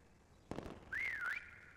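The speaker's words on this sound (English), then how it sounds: "we're about to whistle again in 1 second" After a brief thump, a single whistle rises and dips in a wavy glide, then settles into a steady tone, fairly clear and alone during a round of Prop Hunt.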